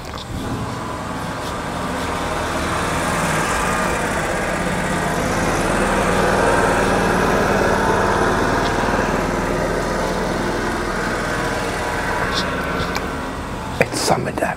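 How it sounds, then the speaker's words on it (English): A tractor engine runs nearby, giving a steady, loud mechanical drone that holds throughout with no clear breaks. "Sorry for the tractor noise."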